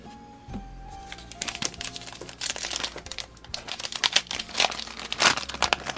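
A Yu-Gi-Oh Extra Pack 2018 booster wrapper being torn open nearby, with bursts of crinkling foil and sharp tearing crackles that grow busier and louder toward the end, no voices.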